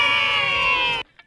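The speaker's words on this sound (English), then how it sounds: "Thousands of Trojans, young and old, invade the campus to cheer" A homecoming crowd of Troy Trojans fans at a college football game roars and cheers loudly in a dense, chant-like swell for about a second, then cuts off abruptly to near silence with a faint trailing sound.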